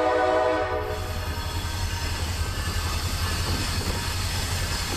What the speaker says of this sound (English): First up would be 769, turning their lead motor on the Mulberry Y to clear up for B360